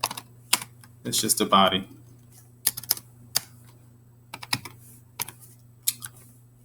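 Typing on a computer keyboard, with scattered crisp key clicks in short irregular bursts, close and clear, over a low steady hum, while someone briefly speaks between the keystrokes.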